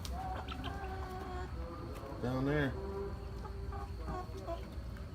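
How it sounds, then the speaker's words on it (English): Chickens clucking nearby in short bursts, with one louder, wavering call in the middle; a person speaks briefly. "Oh, all these chickens in here."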